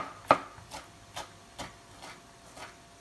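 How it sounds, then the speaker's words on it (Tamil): Soft, regular knife taps on a cutting board as tomatoes are finely chopped, about two per second, faint and close, with no talking. "ஸோ இதில் வந்து நம்ம தக்காளி நல்லா கொஞ்சம் பொடியாக நறுக்கிக்கலாம்"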